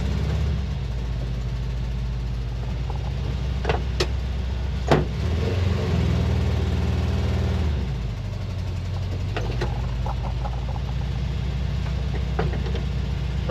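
A 1968 Volkswagen camper's engine idles steadily in a driveway, a low, even rumble with a small shift in pitch midway, and a few faint clicks and clanks over the top.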